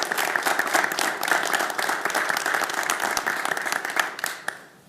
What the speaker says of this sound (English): we like to do a round of applause for all of our veterans who are serving overseas